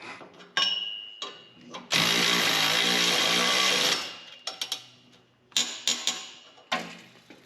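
A tool tightening 16 mm exhaust flange bolts on a Revel Trail Hart exhaust fitted to a Toyota truck, with a loud two-second ratcheting whir between sharp metallic clicks and clanks, close up.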